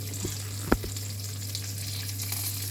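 Pork belly frying in a pan, a continuous crackling sizzle at close range with one sharp knock or utensil clatter early on, with a low steady hum underneath.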